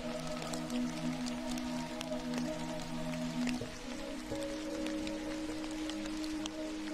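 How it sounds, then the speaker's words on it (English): Steady rain falls outside, a continuous soft patter with scattered drips across the whole stretch, moderately quiet and with no voices. "With the rain still whispering its gentle song outside"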